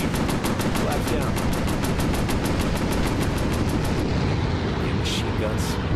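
Rapid bursts of warplane machine-gun fire in the Pacific air-combat game Warplanes: Battles over Pacific, a dense steady rattle for about four seconds before cutting off, leaving engine drone and a couple of brief bursts.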